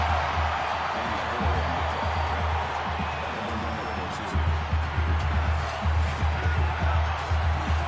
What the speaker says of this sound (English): The crowd really making it difficult.